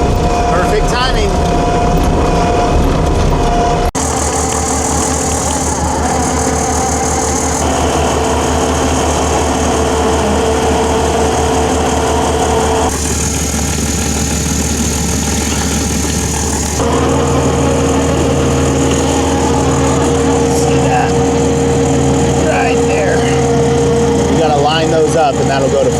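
A trenching machine runs its auger, digging a four-foot-deep water line trench; the engine drones loudly and continuously, its tone shifting several times as the load changes.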